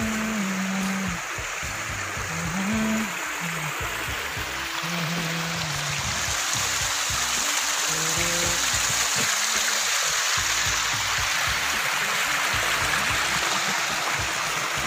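Continuous broadband rush of river water flowing in a natural stream where people bathe, steady and close for the whole stretch, with a few low murmuring tones near the start.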